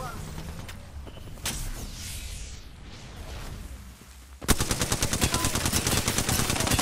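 Rapid automatic gunfire in the video game Apex Legends, quieter firing and effects first, then a loud, fast stream of evenly spaced shots for the last couple of seconds.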